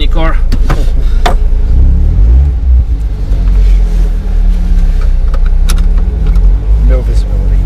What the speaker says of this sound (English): Let's go, tiny car